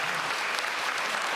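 Applause from a political rally audience in Busan fills the whole moment, a steady dense wash of clapping hands with no voices over it.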